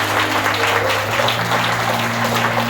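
A congregation at a Christmas Day sermon breaks into dense, sustained clapping that stays loud and even throughout, with no speech over it.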